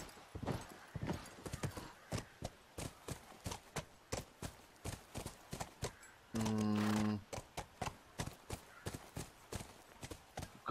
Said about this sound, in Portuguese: O cavalo salta isto?